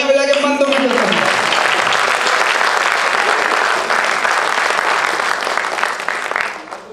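A crowd applauds at a Hindi comedy poetry gathering, a loud, dense wash of clapping that starts as a voice fades and carries on steadily for several seconds before tapering off.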